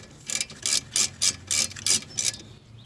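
A ratchet tightens a brake caliper bolt on a 2008-2017 Mitsubishi Lancer during a front brake pad change, seven crisp clicking bursts in an even rhythm, close and clear, then quiet.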